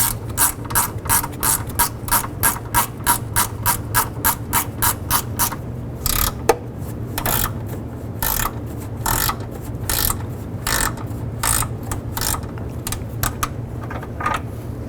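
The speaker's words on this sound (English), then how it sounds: "I'm going to go ahead and remove this 10mm bolt to take this radiator bracket off." A ratchet wrench backs out a 10mm bolt from the radiator support bracket of a 2007-2011 Honda Civic, making rapid regular clicking bursts, then slower spaced clicks in short strokes, close and loud, with no talking.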